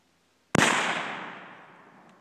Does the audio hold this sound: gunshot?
yes